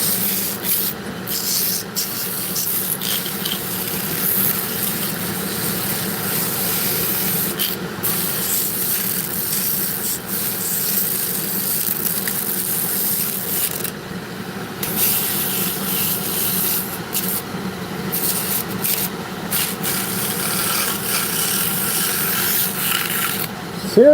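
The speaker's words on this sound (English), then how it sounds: "Gotta slow it way down when you do the sanding or you blow up your machine." A machine sands cottonwood bark at slow speed, a continuous abrasive rubbing hiss that runs close and steady, broken by short bursts of harsher grinding.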